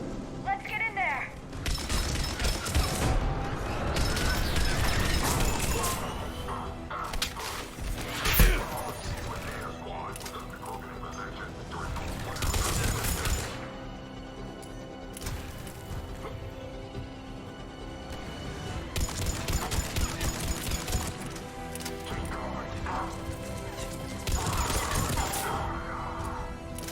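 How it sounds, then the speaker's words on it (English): Gunfire at a checkpoint in Mass Effect 3 comes in repeated bursts and crashes, with one sharp heavy impact midway, mixed with mechanical clatter and shouted voices throughout. "The checkpoint is under fire!"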